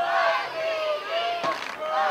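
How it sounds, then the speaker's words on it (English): Soccer stadium crowd at an FC Wichita versus Little Rock Rangers match stirring ahead of a free kick, a steady broad murmur with rising voices and a brief louder swell near the end. "You can hear the crowd waking up there a little bit."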